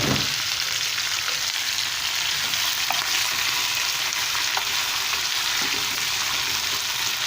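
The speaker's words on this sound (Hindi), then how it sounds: "अब हम इसमें टमाटर डालेंगे।" Fish frying in a pan with tomatoes added for a fish in tomato paste dish, giving a loud, unbroken hiss of sizzling oil that holds steady throughout, with no voices.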